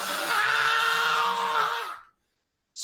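A human voice imitates an angry, guttural reptilian creature's scream, one long rasping howl held for about two seconds before cutting to silence.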